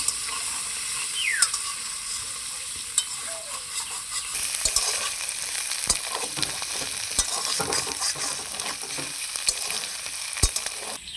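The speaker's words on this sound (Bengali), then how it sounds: "লবণ হলুদ দিয়ে আলুগুলোকে লাল লাল করে ভেজে নেব।" Potatoes fry in hot oil with salt and turmeric while being stirred, giving a steady close sizzle broken by sharp scraping clicks of the spatula against the pan.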